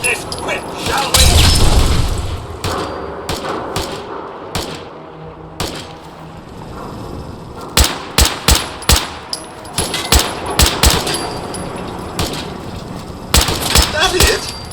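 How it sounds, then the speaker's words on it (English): Bursts of gunfire in the Fallout 4 video game ring out in sharp, loud clusters, starting with a heavy boom and then rapid repeated shots and single cracks spread across the span. "Now I think we know where that gunfire was coming from."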